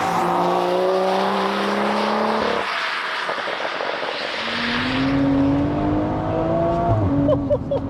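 A 600 BHP BMW M135i accelerating hard from inside the car, the engine climbing through the revs, breaking off at a gear change and then pulling again, loud and continuous.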